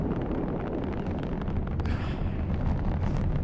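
A Galilei rocket launch in the Watch Dogs video game roars as a dense, continuous rumbling blast that holds steady and loud throughout, with no voices.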